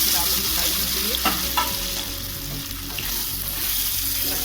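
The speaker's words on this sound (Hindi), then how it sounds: "तो गट्टे फ्राई होने के लिए मैं डाल देती हूँ।" Gatte frying in hot mustard oil in a kadai, a steady broadband sizzle running throughout, with occasional stirring scrapes and clinks of a utensil against the pan.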